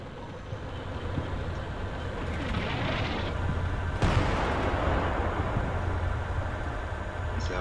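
Gunfire and battle noise in a Cold War combat video game, a dense, continuous rumbling roar with a sharp, loud crack near the middle, no voices over it.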